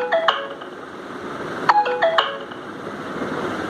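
An Android phone notification tone of the clock style chimes a few times: a short bright tone near the start, then a quick cluster of two or three chimes in the middle, over a faint background hiss.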